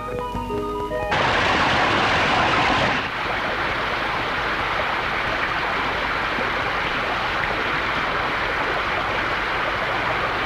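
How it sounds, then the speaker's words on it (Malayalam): Heavy rain pours in a steady, dense wash, loud and close, after a short burst of music; a low rumble that may be thunder mixes in, and no one speaks. "എന്തൊരു ഇടിയും മഴയും"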